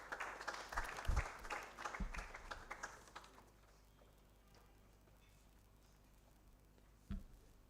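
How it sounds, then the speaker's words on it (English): Audience applause at a food security and nutrition event in Karamoja rises in a burst of clapping, then fades away, leaving quiet room tone and a single late clap. "Marcus, a round of applause for him as he comes through."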